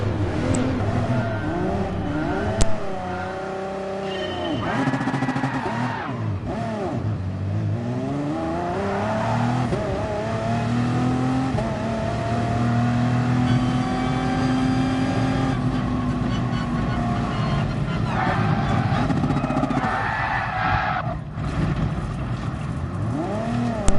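A Porsche race car engine drones and revs steadily at Le Mans in a sim racing game, with pitch sweeping up and down through gear changes and a brief click early on, with no talking.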